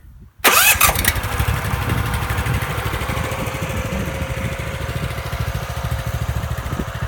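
A Casorzo 15R 9 horsepower cultivator engine, used for weeding a garden, starts abruptly after a moment of quiet and then settles into a loud, close, steady chugging idle that runs to the end.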